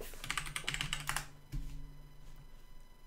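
Quick run of keystrokes on a computer keyboard entering a text command, a rapid clattering burst in the first second followed by quieter ambient hum, with no one speaking.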